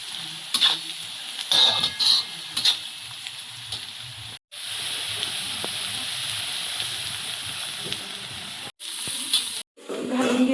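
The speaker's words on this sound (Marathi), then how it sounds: "मस्त असा आपला सोनेरी रंगावरती कांदा जो आहे तो सोनेरी रंगावरती आपल्याला भाजून घ्यायचा आहे" Chopped onion sizzles steadily in a hot pan, frying toward golden for a village-style wild leaf vegetable dish, with stirring scrapes early on and a continuous hiss broken by a couple of brief pauses.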